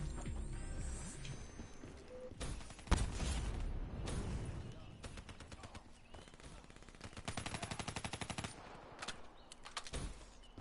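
Gunfire in Black Ops 3 multiplayer: bursts of shots and a rapid machine-gun rattle near the end, loud and close, with a player's voice talking over parts of it.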